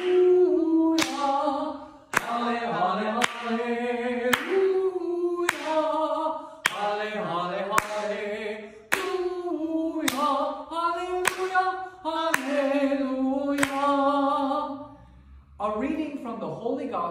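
During a children's liturgy service, a congregation stands and sings a 'Halle' chorus, with regular, steady hand claps about once a second marking the beat beneath the clear melodic singing.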